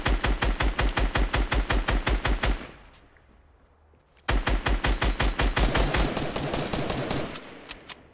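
Rapid automatic gunfire in a Fortnite match: a long burst of evenly spaced, sharp shots, a brief pause with faint background noise, then a second sustained burst at the same fast rhythm.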